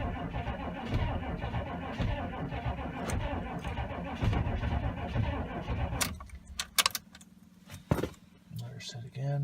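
A 6.5 turbo diesel engine cranks and struggles through a cold hard start, a rough low churning that cuts out after about six seconds, followed by a few sharp clanks and rattles.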